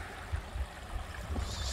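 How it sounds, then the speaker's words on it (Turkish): A small stream flows under a tiny village bridge, giving a steady, fairly faint outdoor rush of water with a low rumbling wash throughout. "Sular akıyor buradan böyle."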